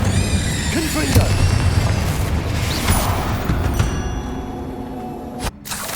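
A booming Confringo explosive spell blast in the Hogwarts Legacy video game, a loud rumbling burst over dense battle noise that tails off before a sudden cut.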